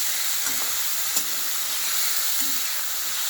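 Marinated fish fries in hot mustard oil in a kadai, giving a steady, close hiss and sizzle throughout with a few faint pops and spits.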